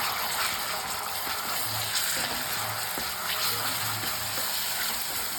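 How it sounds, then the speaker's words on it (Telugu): Onions fry with ginger-garlic paste and turmeric in a pan, a steady hissing sizzle with faint stirring taps underneath, close and even, with no talking. "1/2 స్పూన్ అల్లం వెల్లిగడ్డ 1/2 స్పూన్ పసుపు వేసి పచ్చివాసన పోయేంత వరకు"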